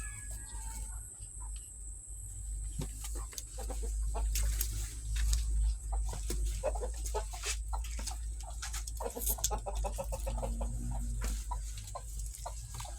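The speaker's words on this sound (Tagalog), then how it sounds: "Yan mga manok ko." Backyard chickens cluck and call nearby in scattered bursts over a low steady hum, with a faint voice now and then.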